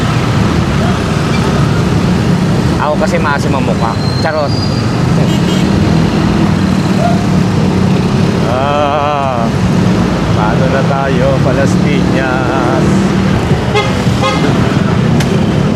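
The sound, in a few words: street traffic with many vehicles and honking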